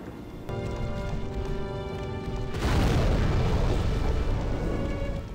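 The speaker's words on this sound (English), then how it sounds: "He's just gonna use explosions all the time." Fire boss explosions from the Flame Lurker fight in Demon's Souls, a deep booming blast surging in over game music and holding as a loud rumbling roar.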